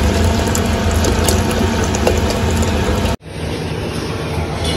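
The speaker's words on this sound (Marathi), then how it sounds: "चला यात आपण आता पाणी टाकत आहे" Water pours steadily and loudly into a cooking pot of dal, a close, continuous rushing splash that drops out abruptly for a moment and then resumes.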